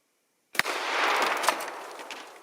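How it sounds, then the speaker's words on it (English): A 12 gauge shotgun fires a single Monolith slug outdoors in Alaska, one sharp, loud blast followed by a long rolling echo that slowly fades. "Here we got the 12 gauge Monolith 32 slugs."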